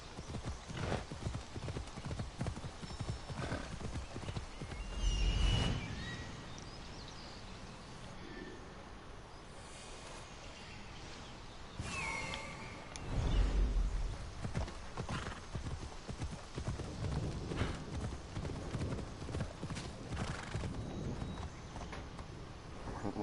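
Horse hooves clip-clop steadily in Assassin's Creed Odyssey, with neighs rising around two points, set against a continuous game ambience at moderate level with no talk.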